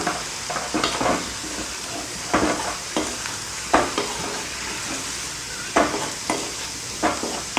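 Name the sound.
stirring potato fry with masala powder in pan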